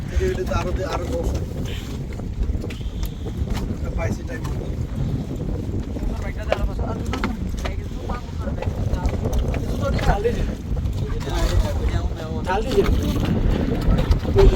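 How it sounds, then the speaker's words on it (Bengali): A trawler moves over open sea off a Bangladesh coast, with a steady engine drone, water wash and wind buffeting the microphone throughout, and people talking at times. "তো অবশেষে আমরা উঠে গেলাম আমাদের ট্রলারে স্পিডবোর্ড থেকে"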